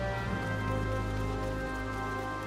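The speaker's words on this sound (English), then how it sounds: "The rain is coming down." Steady rain falling in the Final Fantasy XIV: A Realm Reborn game world, a dense, even hiss of drops on surfaces that stays constant throughout without any voices.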